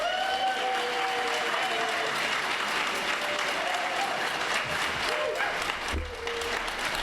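Audience applause welcoming a speaker to a marine-life lecture, a steady wash of clapping from a full room that runs unbroken throughout, with a brief thump near the end.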